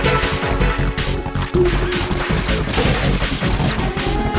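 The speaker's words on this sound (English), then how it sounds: "Nice, he ran into my claymore." Explosion from a claymore mine in the game Metal Gear Solid 2: Sons of Liberty, a dense, loud burst of crashing blast noise that fills the whole moment amid other loud in-game action.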